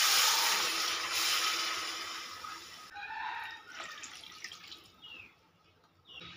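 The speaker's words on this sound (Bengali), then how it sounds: "এবার আমি দিয়ে দেবো 2 কাপ পরিমাণে জল" Two cups of water are poured into a pan of drumsticks and potatoes, making a loud rushing splash that fades into gentler trickles and sizzling drips.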